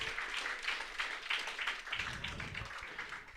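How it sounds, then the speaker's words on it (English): At a book launch, a fairly faint audience gives applause for the sound engineer. The clapping is scattered and rhythmic, with a low murmur underneath, and no one speaks over it. "Give Tommy a big round of applause."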